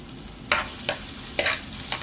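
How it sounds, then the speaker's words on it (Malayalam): Curry leaves and chopped ingredients stirred in a frying pan for king fish head curry: four crisp spatula scrapes at an uneven pace over a soft, steady sizzle, close by. "ഒന്ന് ഇളക്കി കൊടുക്കാം"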